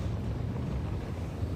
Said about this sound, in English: it's been getting progressively more windy, progressively stronger winds have been coming through